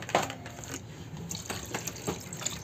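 Water is poured into a pot of minced chicken on a kitchen stove, a soft, faint splashing trickle with a few small clinks, close and quiet throughout.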